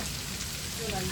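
Heavy monsoon rain pours steadily on a farm during a trip to milk a buffalo, a dense, close, unbroken hiss of drops with a faint voice near the end.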